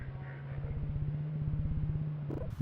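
Background ambience of City 17 in Half-Life 2 Episode 1: a quiet, low, steady hum with a faint pulsing rumble beneath it and a brief shuffle at the end.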